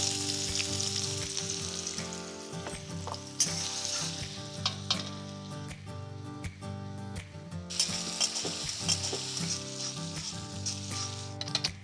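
Onion frying in a pan after cumin and garlic, sizzling steadily and loudly with occasional stirring clatter, no speech.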